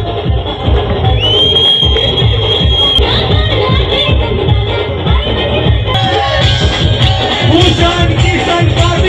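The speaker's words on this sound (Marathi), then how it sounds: "जोरदार टाळ्या वाजवा मित्रांनो." A crowd at a Sarpanch Shri 2025 title ceremony applauds and cheers the winner, a loud, dense wash of clapping and crowd noise lasting throughout, with a high whistle-like tone sustained partway through.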